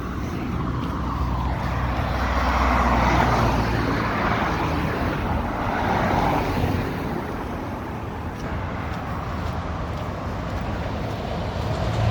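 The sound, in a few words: big truck passing on road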